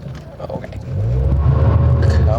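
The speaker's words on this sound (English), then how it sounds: "Coming away from the stop sign there, quite slippery, wheels spinning." A 2008 Mazda MX-5 Miata NC pulling away from a stop sign on a slick, icy winter road, its engine rising into a steady, loud rumble as the wheels spin for grip, close up from inside the car.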